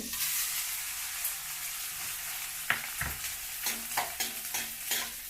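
Edible gum fries in hot ghee for dry fruit laddu, a steady soft sizzle close by with a few scraping stirs of a spoon in the pan toward the end.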